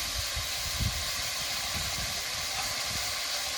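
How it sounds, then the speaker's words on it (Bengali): Water poured into a pan of thin hilsa fish curry with green chillies hisses steadily, with low bubbling rumbles underneath and no voices. "তো এবার এই গামলার মধ্যে একটু জল বুলিয়ে দিয়ে দেবো।"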